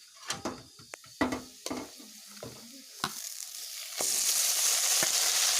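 Marinated broiler chicken dropped into hot oil in a kadai with onions, a few sharp spatula clacks and stirring scrapes first, then a steady loud sizzle that rises and fills the last couple of seconds, with no voices.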